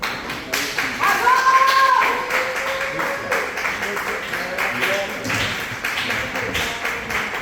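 A comedy club audience claps and applauds after a comedian is introduced, a sustained patter of clapping with whistles and cheers, and a voice talks over it.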